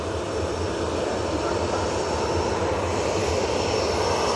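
Emirates airliner jet engines spooling up at Manchester Airport, a steady broad roar with a faint high whine, constant and fairly loud from a distance, alone without talk.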